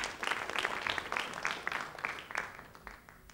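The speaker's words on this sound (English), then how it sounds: "You can clap." Audience applause at a piano music game-show evening, a dense wash of hand claps at moderate distance that runs steadily through the clip.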